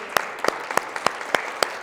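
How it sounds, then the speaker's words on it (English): Brief, sparse clapping from a small group, individual claps landing in a loose, roughly steady rhythm. "Let's give her a round of applause."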